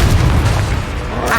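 A Confringo fire-blast spell in the video game Hogwarts Legacy lands as a loud, booming explosive burst with a dense low rumble that holds steady through the short moment.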